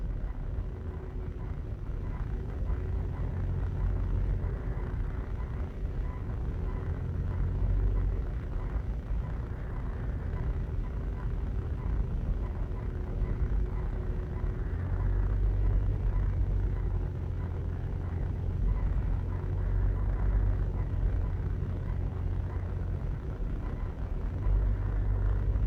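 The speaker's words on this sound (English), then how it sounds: "Alright, so we're driving into the town center now." A car drives into the town center of Negril, Jamaica, giving a steady, loud low rumble of engine and road noise from inside the cabin, continuous throughout with no talking.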